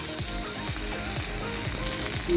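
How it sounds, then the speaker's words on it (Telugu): Idli dipped in paste and frying in hot oil, a dense, steady, close sizzle with faint crackles throughout. "ఆ పేస్ట్లో ఇడ్లీ ముంచుకొని ఈ ఆయిల్లో వేసేయటమే"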